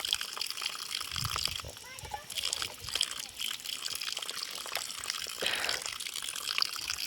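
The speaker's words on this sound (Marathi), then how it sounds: "इथे कॉक चालू केला की पाणी चालू होतं" Cold water gushing from an outdoor tap (cock) on a farm, a faint steady splash and trickle with a voice talking over it.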